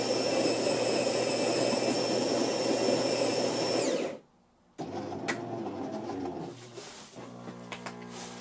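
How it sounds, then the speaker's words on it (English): A Jura C9 automatic coffee maker set to strong whirs with a loud, steady grinding hum, goes briefly quiet, then resumes with pumping and brewing noises that settle into a softer hum with small clicks. "I'll try the coffee button here."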